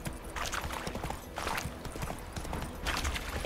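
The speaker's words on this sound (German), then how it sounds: "So, ich muss Galopp machen." Hooves of a horse galloping in The Witcher 3 video game beat out a steady, rapid clip-clop, close and fairly loud, over continuous game background sound, with no talking.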